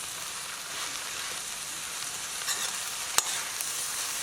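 Broiler chicken frying in a pan over a low flame, a steady soft sizzle and crackle with a couple of small sharp clicks near the end, no speech.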